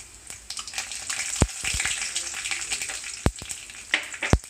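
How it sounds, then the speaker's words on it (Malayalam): Mustard seeds, fenugreek and curry leaves sizzle and spatter in hot oil, a dense close hiss broken by sharp crackling pops and a few louder bursts, with no voices. "എണ്ണ ചൂടായിട്ടുണ്ട്. അതിലേക്ക് നമുക്ക് കടുകിടാം. തൊട്ട് പിന്നാലെ ഉലുവായും ഇടാം. അതിനുശേഷം കരിവേപ്പില ഇടാം."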